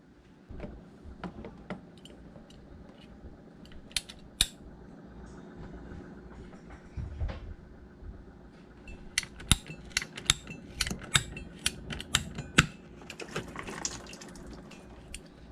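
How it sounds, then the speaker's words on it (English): A PVC pipe cutter works through PVC pipe during a water filter install, giving a run of sharp clicking ratchet snaps, sparse at first and then quick and repeated near the end, close and alone. "PVC piping cutter. And what we'll do, we'll cut it here."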